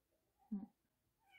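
A young cat gives one short, clear meow at close range in a quiet home, with a faint voice murmuring near the end.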